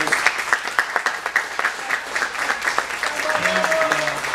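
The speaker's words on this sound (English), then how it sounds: "big round of applause" Big round of applause from a church awards-night audience honoring a volunteer, dense steady clapping throughout with a brief murmur of voices near the end.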